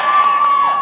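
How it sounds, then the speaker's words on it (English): A brief, loud burst of cheering from an audience at a Supanova convention stage show in Brisbane, full of shrill shouts and high voices held steady across the moment. "give him a cheer"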